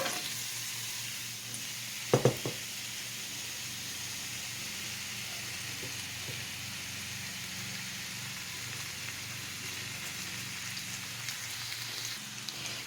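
Onions sauté in hot oil over a high flame, a soft, even sizzle running throughout with a couple of sharp utensil knocks early on and faint stirring later.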